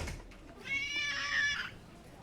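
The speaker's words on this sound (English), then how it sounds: "And he's left his bloody cat." A cat gives a single drawn-out meow lasting about a second, fairly near and clear over a quiet indoor background.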